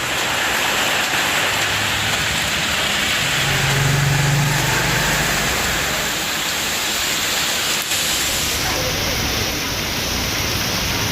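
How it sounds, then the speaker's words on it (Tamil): A heavy downpour driven by strong wind strikes the Chennai suburbs around Valasaravakkam, Porur and Poonamallee, a loud, unbroken roar of rain with a low engine-like rumble beneath it. "பலத்த காற்றுடன் மழை கொட்டியது"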